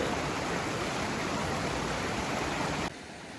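A mountain creek in Kananaskis flows with a steady broadband rush of water, close and even, cutting off abruptly near the end.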